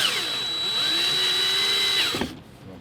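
An electric screwdriver backs screws out of a Mercedes-Benz E-Class W211 radio, its motor whining steadily and close for about two seconds before winding down and stopping.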